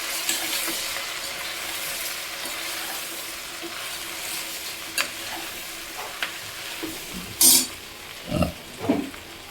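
Eggplant pulao ingredients fry in a pan with a steady close sizzle, with a few stirring scrapes and knocks near the end and no talking.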